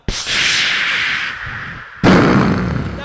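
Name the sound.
firework explosion sound effect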